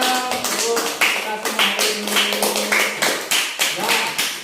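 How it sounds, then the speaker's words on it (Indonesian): Rhythmic, evenly spaced hand clapping from a group of students in a classroom, close and lively, with a voice speaking and chanting over it. "Tepuk tangannya capek nanti tangannya sakit semua ya"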